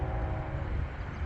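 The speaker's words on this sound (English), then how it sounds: "Sorry about the train." A train passes steadily, a continuous low rumble with faint tonal hum, heard outdoors during a thunderstorm in Valparaiso, Indiana.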